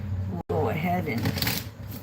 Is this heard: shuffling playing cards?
yes